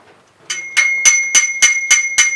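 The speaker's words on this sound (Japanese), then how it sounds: "you can hear the metal ring." Seven sharp, bright metallic rings in a steady rhythm from taps on a Wilson Benesch loudspeaker cabinet of aluminium, MDF and carbon fibre, each strike loud and close with a sustained high ring, heard alone.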